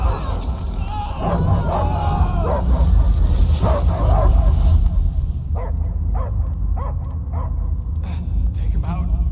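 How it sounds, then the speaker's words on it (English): A dog barks repeatedly in the Guardians of the Galaxy video game, loud and close, first over a crowd-like din and then in short separate bursts after the background drops away. "I hear only barking."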